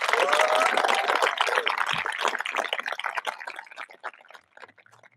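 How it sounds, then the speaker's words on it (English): Applause at a high school graduation ceremony for the graduates' supporters swells loudly from a large crowd, then thins into scattered claps and fades out toward the end. "we give you a large round of applause for everything you have done for us"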